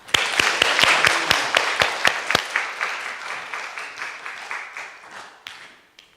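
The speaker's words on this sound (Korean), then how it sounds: "큰 박수로 맞이하시겠습니다" A church congregation bursts into loud applause that starts with sharp separate claps, then thins and fades over several seconds as the crowd settles.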